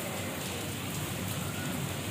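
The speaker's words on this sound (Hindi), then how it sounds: "तो बारिश थोड़ी हल्की थी लेकिन काफ़ी प्यारा मौसम है" Light rain falls during a morning outdoors, giving a steady, even hiss of drops with no thunder or speech over it.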